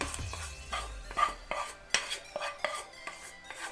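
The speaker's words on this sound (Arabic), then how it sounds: "صافي البنات دابا غادي نخلط هذاك لا فيرميسيل" Vermicelli being mixed with chicken filling in a large bowl for a pastilla, heard as a run of close utensil scrapes and taps against the bowl in an uneven rhythm, with no talking.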